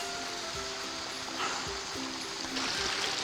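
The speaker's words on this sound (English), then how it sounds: "These little streams are opening up around here now, and you just got to cross a couple of small ones." Small mountain streams run across a path in Cwm Llafar below the ridge between Carnedd Dafydd and Carnedd Llywelyn, giving a steady, close rushing trickle of water that continues throughout with no voices.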